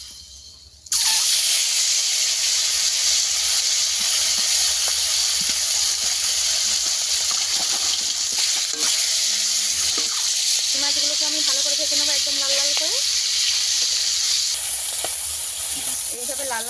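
Fish pieces frying in hot oil for a Bengali fish curry, a steady loud hiss and sizzle that runs throughout with faint kitchen clatter and a brief tonal whine partway.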